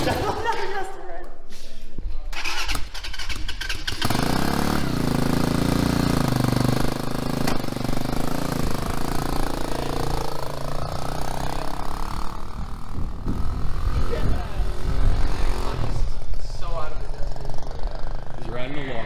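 A brand-new TaoTao TBR7 budget motorcycle engine buzzes and revs nearby, rising and falling as it rides off, with people talking and laughing over it.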